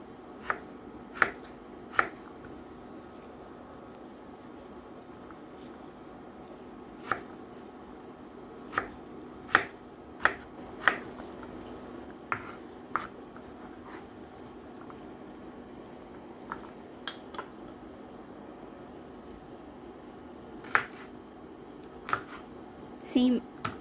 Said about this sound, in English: Let's start with our potato. Let's cut into small cubes.